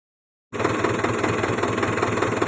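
A farm tractor's diesel engine idling, starting abruptly and holding a steady, loud, rumbling drone with a rapid low knock, close by and with no voices.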